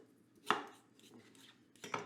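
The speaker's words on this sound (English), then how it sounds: "I'll chop them a little bit." A knife chops vegetables for vegan wraps on a board, two sharp close strikes spaced apart with quiet scraping between, faint and without speech.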